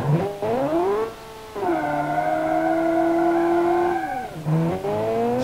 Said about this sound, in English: Oh, second gear wheel spin.